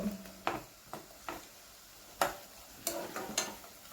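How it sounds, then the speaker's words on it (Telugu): Tomato frying in a pan, a soft hiss under intermittent scraping and stirring knocks of a spoon against the pan, quiet and close. "ఇప్పుడు టమాటో కూడా బాగా మగ్గే వరకు మనం ఇలా ఫ్రై చేసుకోవాలండి"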